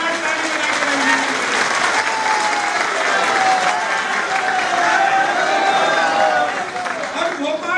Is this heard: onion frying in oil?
no